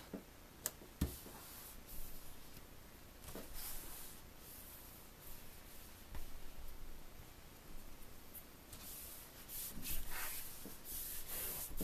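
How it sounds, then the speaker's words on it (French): Dry rubbing strokes over paper folds, creasing the inside covering of a handmade Disney-style folio album, with soft scraping passes and occasional taps close by and no voice. "On va juste repasser tous les plis."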